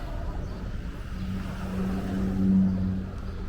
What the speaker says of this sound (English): that is a Amazon truck coming right at me